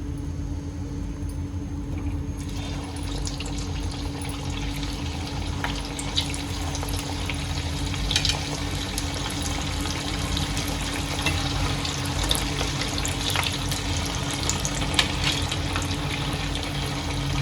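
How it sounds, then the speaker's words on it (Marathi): Semolina rawa vadas deep-fry in hot oil with a steady, dense sizzling hiss that runs unbroken throughout, fairly close and even in loudness, with no one talking. "याला पण मी दोन्ही बाजूनी चांगलं गोल्डन ब्राऊन होसपर्यंत चांगलं तेलामध्ये तळून घेते"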